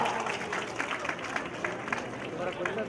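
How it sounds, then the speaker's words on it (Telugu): A crowd at a women's Indira Mahila Shakti meeting claps together in a dense, steady wash of applause, with a voice carrying over the clapping. "గట్టిగా అందరూ చప్పట్లు కొట్టండి బాగా"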